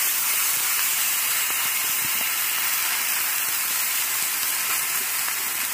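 Steaks sear on a hot grill with a continuous, even hiss and sizzle that holds steady and close throughout, with no talking.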